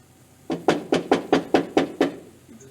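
Seven quick, evenly spaced knocks on a door, loud and close, with nothing else sounding.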